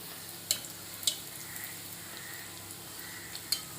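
Bhature puffing up as they deep-fry in hot oil make a soft, continuous sizzle, with a few sharp pops rising out of the quiet bubbling.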